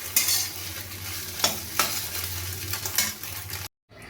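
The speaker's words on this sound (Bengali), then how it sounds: "ডিমটা আমার ভাজা হয়ে গেছে" Pieces of egg fry crisply in a pan, a continuous sizzle broken by scraping stirs of a spatula, fairly close and free of talk, cutting off abruptly at the end.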